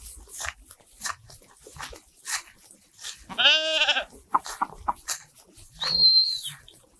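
A single loud, wavering bleat rises mid-way on a village livestock farm with sheep and lambs, followed by a short high call, amid scattered farmyard noises.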